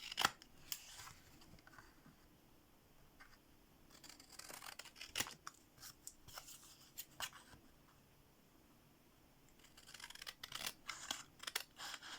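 Scissors trimming a painted card background, with sharp, close snips and crisp paper cuts in irregular clusters, separated by quiet pauses and light paper handling.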